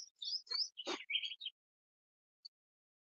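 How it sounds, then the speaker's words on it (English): Birds sing outdoors in a burst of quick, close chirps and trills lasting about a second and a half, then near silence broken by one faint final peep. "It sounds peaceful with them birds"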